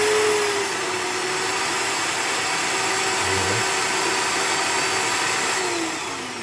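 A Bosch PBD 40 drill press motor runs at a steady, loud whine, holding an even tone from start to finish and easing off slightly at the end.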